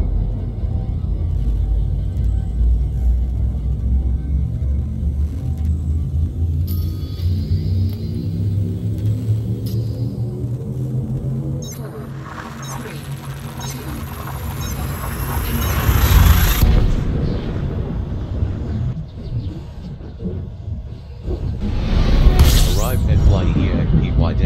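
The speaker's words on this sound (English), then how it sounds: "Frameshift drive charging." A spaceship's frameshift drive charging in Elite Dangerous, a heavy rumbling build with rising and falling tonal sweeps, swelling into a bright surge, then a final louder whoosh, with a voice speaking over it.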